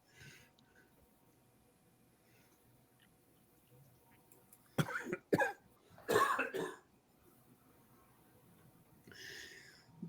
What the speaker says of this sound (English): Person behind me was just coughing their lungs out.